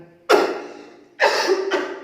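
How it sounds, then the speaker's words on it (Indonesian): A person coughs in a quiet room: one short cough, a pause, then two more coughs close together, fairly close. "maaf agak batuk ya"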